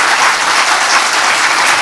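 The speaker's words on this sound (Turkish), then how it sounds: "daha güçlü bir alkış lütfen." An audience applauding at the reopening of the Beyoğlu Cinema in Istanbul, loud, dense and steady throughout, with the clapping filling the room and no break.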